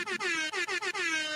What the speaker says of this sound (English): I just want to get you some air horns.